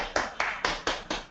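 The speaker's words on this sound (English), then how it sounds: "Indore team is clapping for you for sure" Members of the Indore team clap on a video call, sounding as six sharp, evenly spaced claps that are fairly close and clear, with no voices over them.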